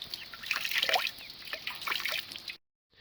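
Water drips and trickles from a wrung-out rabbit hide being tanned with eggs, a close, busy patter of small splashes for about two and a half seconds before the sound cuts to silence.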